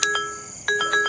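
A mobile phone rings early in the morning, giving short bright electronic tones in a couple of bursts with a steady high pitch sustained between them, fairly close and clear with no talk over it.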